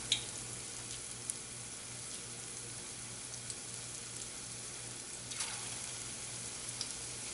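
Lauki kofta frying in oil over a low flame, giving a soft, steady sizzle with a few faint pops, quiet and continuous throughout.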